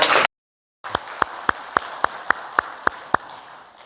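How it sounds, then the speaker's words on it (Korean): A church congregation clapping in encouragement after a brief silence, with a dense applause wash punctuated by a steady series of sharp, loud individual claps ringing out nearly evenly spaced. "다시 한번 우리 격려의 박수 한번 할까요?"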